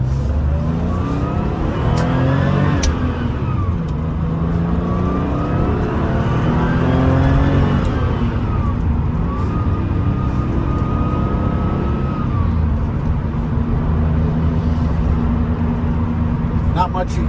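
A 1997 Porsche 911 993 Turbo cruises on a road in high gear at low revs, its engine drone and road rumble filling the cabin continuously, with a few gentle pitch sweeps and a voice speaking over it.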